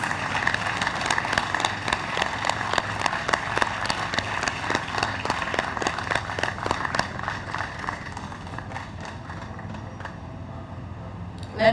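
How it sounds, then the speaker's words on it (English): Audience applause for nurses at a vaccination week launch ceremony, sustained clapping from a modest crowd that gradually thins and fades toward the end. "Let the applause continue."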